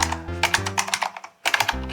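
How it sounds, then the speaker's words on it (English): Fast, crisp clatter of computer keyboard keys, close and loud, with a short pause near the end before a final burst of strokes. No voices. "What's wrong with my typing today?"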